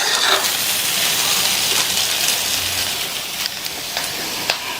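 Potatoes roasting in masala in a pan, turned with a wide ladle: loud, continuous rain-like sizzling hiss close by, broken by scattered sharp clicks and scrapes as the ladle moves, without voices.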